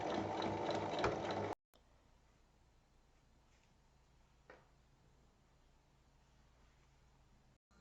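A sewing machine stitches across the width of zipper ends sandwiched between small fabric pieces, running in one fast, close mechanical burst of about a second and a half before stopping, leaving a quiet room.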